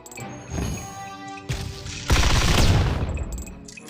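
Rapid gunfire bursts and crashing explosions from the mobile strategy game Summoners, loud and dense, building into a heavy barrage partway through with no talking.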